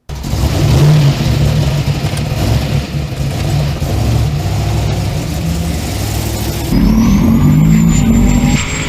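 A turbocharged 540 engine in the Elvis car, rated at 1,200 horsepower, roars loud and constant while its tires blaze, with the revs surging again near the end; no one speaks.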